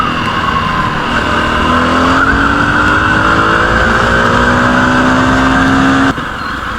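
A Jawa Perak BS6 motorcycle engine revs up hard and steadily, its rising tone climbing for about six seconds before easing off near the end, loud and close with no voices.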